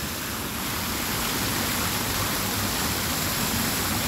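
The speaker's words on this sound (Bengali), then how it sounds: "এই যে ছোট ছোট কল দিয়ে অনেকগুলা পানি বের হচ্ছে" Water fountain jets in a park send out a steady, dense rush of splashing water, loud and continuous throughout with no pauses and no voices.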